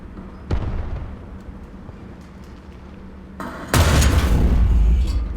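Tank cannon fire in War Thunder from a German Panzer IV Ausf. H medium tank: a sharp blast early on, then a heavy, loud, rumbling impact roar that swells and sustains for over a second.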